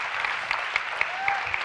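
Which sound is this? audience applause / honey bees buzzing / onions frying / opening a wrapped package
audience applause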